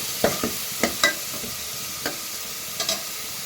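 Onion paste for a mutton curry sizzling in a pan, with a few sharp scraping stirs of a spoon at irregular intervals over steady close frying hiss; no voices.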